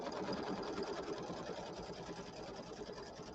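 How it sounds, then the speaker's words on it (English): Embroidery sewing machine stitching a tack-down line on a fall settee pillow, a fast, steady mechanical whirring and needle chatter at close range, fairly quiet throughout. "then it's going to sew the tack down line to hold this all down"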